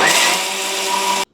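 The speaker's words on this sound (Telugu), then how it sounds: "ఇలా మెత్తగా మిక్సీ పట్టుకోవాలి." A kitchen mixer grinder whirs as it grinds roasted fenugreek and mustard seeds, a loud, steady high-pitched motor whine that cuts off abruptly when switched off.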